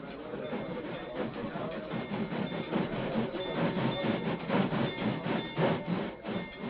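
A train rolls steadily across a bridge in an old-time radio drama, its rhythmic clickety-clack of wheels building slightly in loudness and continuing without pause throughout.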